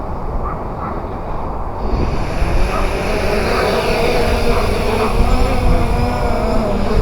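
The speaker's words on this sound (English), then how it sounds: "It's a bit windy out" Steady roaring wind buffeting the microphone outdoors, a continuous low rumble that swells slightly after the first couple of seconds.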